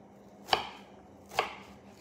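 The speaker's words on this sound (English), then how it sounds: "there's our onion, just chopping here." A knife chops an onion on a board: two crisp, separate strikes, close and fairly quiet, with no talking.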